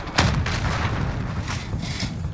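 Grenade explosion in a Call of Duty Modern Warfare multiplayer match: a heavy boom lands early, then a rumbling, noisy tail with gunfire-like crackle continues at a steady level, no clear voices.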